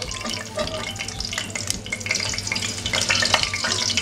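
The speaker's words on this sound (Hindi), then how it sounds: "हल्का सा हिला देंगे" Whole spices frying in oil in a pot for Patiala chicken, stirred with a continuous crackling sizzle and scraping that grows slightly louder toward the end.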